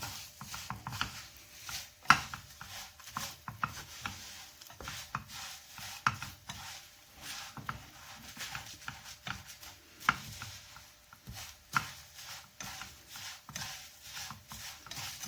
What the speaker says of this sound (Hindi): जल्दी जल्दी इनको चम्मच चलाते हुए थोड़ा सा भून लें